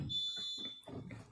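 A smoke or fire alarm tripped indoors gives a steady high-pitched electronic tone that runs under a few rumbling voices, then cuts off partway through while the talk carries on.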